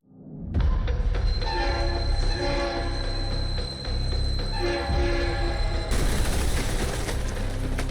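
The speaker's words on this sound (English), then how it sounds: "The train has derailed." A train in the Roblox game Mr Mix derails, with a sustained loud rumble of rolling rail cars, a steady horn-like tone, screeching wheels and clattering impacts that swell again near the end, with no voices.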